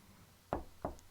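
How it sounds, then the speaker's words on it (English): Two sharp knocks on a door sound effect, evenly spaced and moderately close, against a quiet low hum with no voices. "And then a knock."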